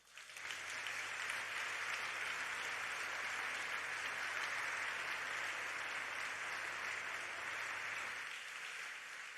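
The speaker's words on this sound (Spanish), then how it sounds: "Un gran aplauso, por favor." An audience at the Aena Hispanic-American Narrative Prize award gala applauds the finalist authors, with dense, even clapping that rises quickly, holds steady for about eight seconds, then fades out.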